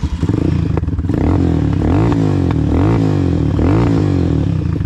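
A Vento Screamer 300 Sportivo motorcycle engine with no silencer runs loud and raw, revving up and down in repeated rising and falling bursts with a harsh, rattling exhaust.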